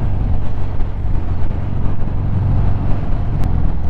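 A Harley-Davidson Fat Bob motorcycle cruising along, its steady low engine rumble blended with constant wind buffeting, with no talking.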